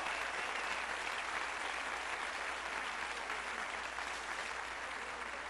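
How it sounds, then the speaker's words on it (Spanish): An audience at a welfare-program handover event in Puerto Vallarta, Jalisco, applauds loudly and continuously, a dense, even clapping that holds throughout. "Vamos a brindarles un fuerte aplauso a todos ellos"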